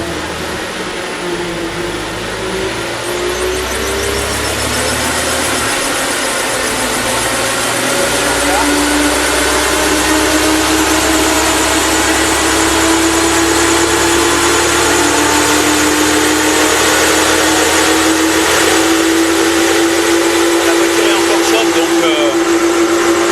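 A car with a naturally aspirated engine runs on a chassis dynamometer for calibration while a cooling fan blows. The engine drones loud and steady with a slowly rising pitch, and someone talks over it.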